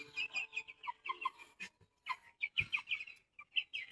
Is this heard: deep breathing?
no